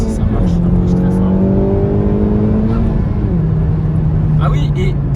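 Honda Civic Type R accelerating hard from inside the cabin: a loud engine note climbing steadily through the gears with a faint turbo whine on top, and people talking over it.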